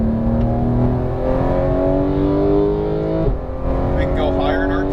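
An exotic sports car's engine revs and climbs through the RPM range on a race track, loud and close, the pitch sweeping upward and dipping with a gear change, while an instructor talks over it.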